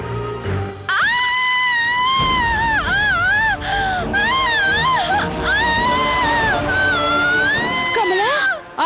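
A woman named Kamala screams in a Telugu TV serial drama, with loud, drawn-out, wavering cries that rise and fall almost continuously for about eight seconds.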